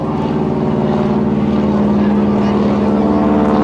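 A T-6 trainer airplane flies slowly at the edge of a stall during an airshow, its propeller engine giving a loud, steady droning hum that holds throughout.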